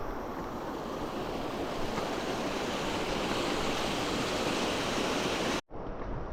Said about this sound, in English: Look at that pretty waterfall.